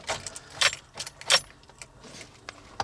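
Keys jangle and clink in a car ignition in quick, irregular bursts, close and fairly quiet, with no voices.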